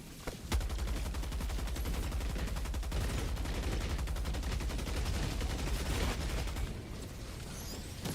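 Sustained automatic fire from a silenced gun in Helldivers 2, a steady rapid stream of muffled shots lasting several seconds before cutting off, loud and close.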